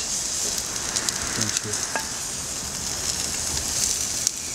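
Eggs fry on a pot lid with a steady, bright sizzle and crackle, punctuated by a few small pops and the faint scrape of stirring, close up with no talking.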